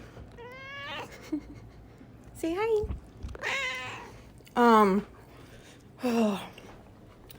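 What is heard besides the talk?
cat meowing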